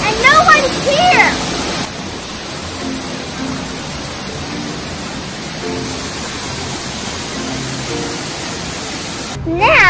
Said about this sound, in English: There's a waterfall and no one's here!